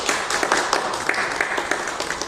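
A church congregation claps steadily in welcome for a pastor, a dense patter of many hands filling the room for a couple of seconds.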